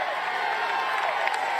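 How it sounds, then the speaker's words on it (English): Roadside spectators cheer and shout steadily for Tour de France riders on the last climb of Stage 11 in 2024, a dense, continuous crowd roar held at an even level throughout. "They've got another big cheer before they take on the final descent now"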